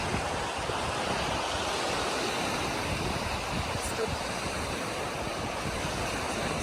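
Waves washing onto a Baltic Sea shore make a steady, broadband roar of surf with wind buffeting the microphone, continuous and without clear breaks, with no voices over it.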